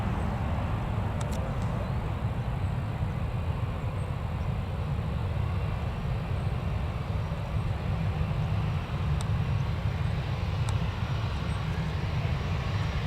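An airplane taxis on the runway at Newcastle Airport, heard as a steady, fairly distant engine drone with a low rumble that holds evenly throughout.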